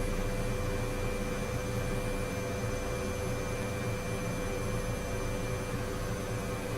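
Helicopter engine starting up in Microsoft Flight Simulator 2024: a constant, dense turbine roar with steady high whine tones, loud and unchanging throughout, no talking.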